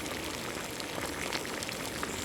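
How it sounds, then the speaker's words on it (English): Tomatoes scalding in a pot of boiling water for pasta sauce, a steady close bubbling and fizzing wash with no voices over it. "First, you scald the tomatoes in boiling water for 3 minutes."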